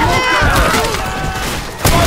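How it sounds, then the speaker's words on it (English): Gunfire in Left 4 Dead 2 amid loud, dense game noise and music, with a sharp blast near the end and voices talking in the mix. "Quit shooting me."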